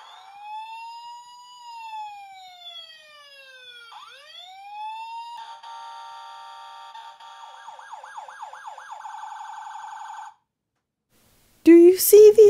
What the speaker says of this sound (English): Sirens and lights are very important for the ambulance to get through traffic safely.